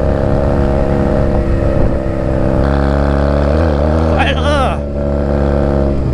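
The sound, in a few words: Honda Rebel 250 motorcycle riding on gravel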